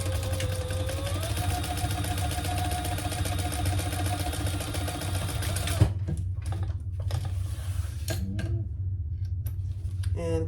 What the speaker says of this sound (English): And then we'll top stitch.